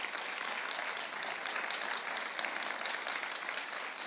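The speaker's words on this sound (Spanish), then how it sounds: "¿Cuánto le dan ese fuerte aplauso al Señor Jesucristo?" A church congregation gives a strong round of applause during a Spanish-language sermon, an even wash of many hands clapping, fairly distant and soft, sustained without pause.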